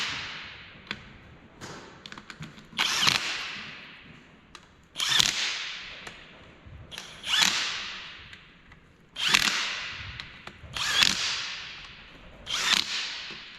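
Sealant-coated bolts on an NP205 transfer case being snugged up with a power tool in repeated bursts, roughly every two seconds, each a loud rattling whir, with wind noise underneath.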